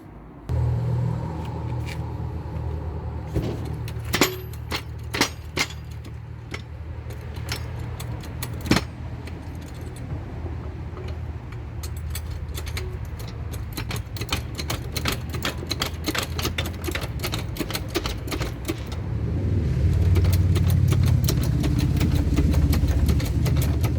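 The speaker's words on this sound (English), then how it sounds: "we need to get the car jacked up" A 2005 BMW 525d M-Sport being raised on a jack in a workshop: a dense run of sharp metallic clicks and ratcheting taps over a steady low rumble, growing heavier toward the end.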